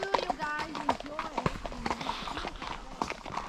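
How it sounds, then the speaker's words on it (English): Horse hooves clip-clop steadily as a large horse walks, a rhythmic clatter running beneath continuous nearby conversation. "when she hears horses coming behind her, she wants to go faster"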